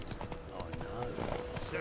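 Horse hooves clip-clopping in The Witcher 3, a quick close rhythmic trot mixed with game sounds and a voice talking over it.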